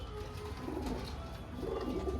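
Pigeons, a pair offered for sale, cooing softly in low repeated rolling calls close by over a steady background.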